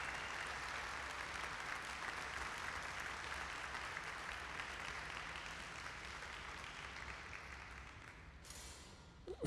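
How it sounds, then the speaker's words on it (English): A studio audience gives faint, distant, continuous applause for a guest crystal cutter at a glassblowing hot shop, fading gently before a brief sharp noise at the end. "Please, round of applause."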